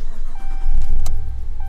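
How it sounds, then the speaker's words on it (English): A Dodge engine cranks and catches after a newly programmed key fob is used, a short close rumble with a brief sharp mechanical click partway through. "starts the vehicle, just like that"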